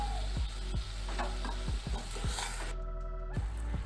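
Mustard curry with green chilli bubbling and simmering in a pan, a continuous close cooking hiss broken by a few soft utensil knocks and one brief lull, with no voices.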